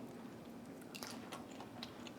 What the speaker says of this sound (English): do you hear the crunch of the skin?